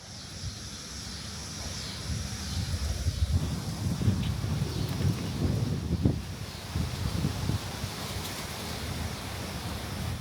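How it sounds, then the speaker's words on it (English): Strong wind buffets the microphone at Brushy Creek in a continuous roaring rush, gusting louder in the middle with no voices. "it's really windy"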